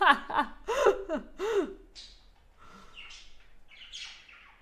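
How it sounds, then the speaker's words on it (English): Pet cockatiels give faint, short chirps in a room, heard mostly in the later half after a burst of human vocal sounds and laughter at the start. "Cockatoos just make short chirp sounds."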